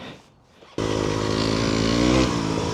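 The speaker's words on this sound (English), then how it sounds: "if you ride this bike in the forest is that you have to use a lot of throttle" An Aprilia RX125 enduro motorcycle riding through a forest, the engine cutting in abruptly and holding a loud, close, buzzing drone with a slight rise and dip in revs.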